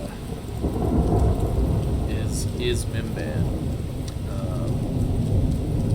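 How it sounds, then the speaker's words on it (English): A heavy thunderstorm pours steady rain with a broad, continuous roar, low rumbling thunder mixed through it, and a voice speaking briefly over the downpour. "you should be able to hear and see this awesome thunderstorm"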